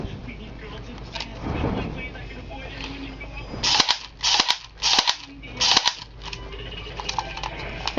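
An airsoft Glock pistol with a full metal gearbox fires on full auto in four short bursts of sharp rapid snaps, close and loud, with a voice talking earlier over steady background noise.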